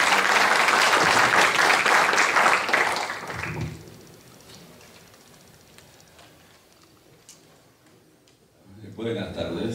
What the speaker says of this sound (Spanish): Vamos a recibirlo con un fuerte voto de aplauso,